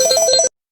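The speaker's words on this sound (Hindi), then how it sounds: "तभी भीमराज का फोन बजा।" A mobile phone ringtone plays a short, loud, bright electronic melody up close, then cuts off abruptly into silence.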